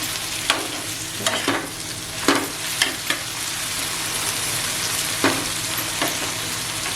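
Wet dried-shrimp jawla fried on a tawa, sizzling steadily while a spatula stirs and scrapes it in several sharp, irregular clanks over a continuous close fry.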